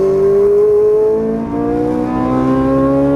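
A Ferrari 458 Italia accelerates hard out of a corner on track, its engine note climbing smoothly in a loud, close, rising whine with a brief dip partway through.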